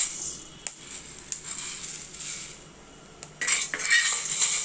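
Black peppercorns, about 25 grams, dry-roasting in a pan, giving a steady fine crackle of spices with sharp clinks of a stirring utensil against the pan, busier near the end.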